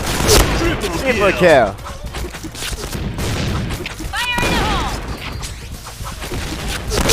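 Rapid gunfire bursts and booms from the PointBlank first-person shooter, loud and repeated across the whole stretch, mixed with excited voices talking over the shots.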